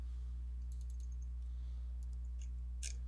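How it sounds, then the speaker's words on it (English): Soft, sparse key clicks from a computer keyboard, with someone typing a search into a web page. The clicks come in small bunches over a steady low hum, faint and close by. "I was typing in"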